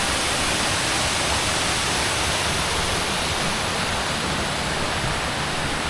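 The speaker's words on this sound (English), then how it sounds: "One of the many waterfalls that I've seen today." A roadside waterfall pours with a dense, constant hiss-like roar that stays steady and fills the whole scene with no other sounds.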